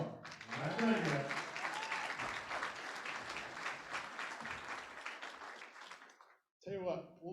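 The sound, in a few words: audience applause at wine pull auction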